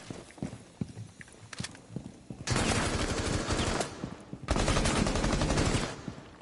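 Gunfire erupts in Rainbow Six Siege, where a shotgun is in use. After scattered thuds and clicks, two long, loud stretches of rapid, dense shots follow, separated by a brief pause.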